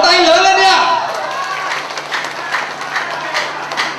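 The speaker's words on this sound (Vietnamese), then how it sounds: "Vỗ tay lớn lên đi ạ!" Guests at a Vietnamese wedding clapping in a dense burst of crowd applause that peaks at the start, then carries on more softly, with voices calling out over it.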